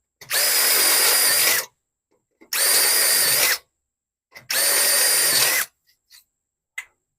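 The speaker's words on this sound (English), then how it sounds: "Then I just take a step bit and I make them 5/16 because that makes the handle go in a lot better." A power drill with a step bit whines loudly in three sustained bursts, each about a second long, enlarging holes to 5/16 inch for a screen door handle, with quiet gaps between.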